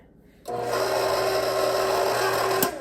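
An electric stand mixer on low speed blending a heaping measure of dry ingredients into honey wheatgerm lemon cookie dough, a steady whirring motor hum that starts abruptly and runs for about two seconds.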